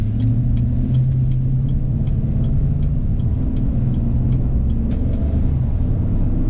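A 2019 Chevy Silverado RST with the 5.3-liter engine accelerates gently, heard from inside the cab as a low, steady engine rumble with road noise. It stays fairly quiet and even, with no talking.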